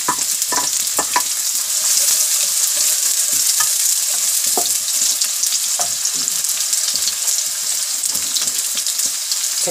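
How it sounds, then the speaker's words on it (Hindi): Onions fry in a pan with a steady, fairly loud hiss of sizzling oil and occasional stirring clicks, continuous throughout with no talking. "प्याज हमने फ्राई कर लिए हल्की।"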